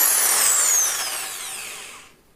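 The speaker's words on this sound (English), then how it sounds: "So I'm now going to go ahead and drill the hole." A power drill bores a hole through a boat's foredeck, a bright high whine that starts loud and steadily winds down before cutting off.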